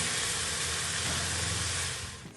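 Washed mutton hitting hot oil with golden-brown frying onions, a loud steady broadband sizzle and hiss that fills the pan, easing slightly at the end, with no talking.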